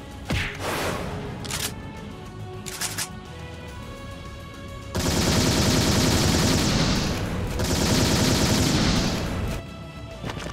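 Rapid bursts of gunfire from the video game Hyperdevotion Noire: Goddess Black Heart, with scattered shots early and then two long, loud sustained volleys of repeated firing.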